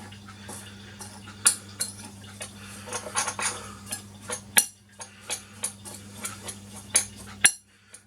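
A homemade spice mix is stirred in a container, with irregular metallic clinks and scrapes of a utensil against it, close and fairly loud over a low steady hum.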